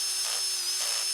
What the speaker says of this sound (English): Jumping back in with the drill there.